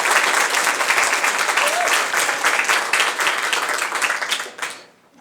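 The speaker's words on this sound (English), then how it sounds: "So give one more round of applause, would you please, for Beth Burns and our Friends organization" A library budget address audience claps in sustained, dense applause, loud and even for about four seconds before tapering off quickly to near silence at the end.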